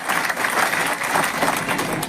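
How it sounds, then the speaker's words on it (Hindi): Applause from a crowd at a Samajwadi Party by-election rally in Katehari, steady dense clapping filling the whole stretch without a break, loud and near. "एक बार अपने लिए जोरदार ताली बजाइए आप लोग"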